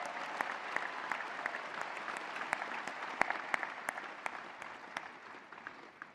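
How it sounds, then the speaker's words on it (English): At a mayoral swearing-in ceremony in Atlanta, a distant audience applauds city public servants with sustained, even clapping, soft and roomy. "Let's give these dedicated public servants a round of applause."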